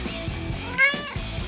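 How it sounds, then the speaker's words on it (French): A small kitten mewing once, a brief, close, high-pitched cry set against busy background music. "J'ai cru entendre un petit chat."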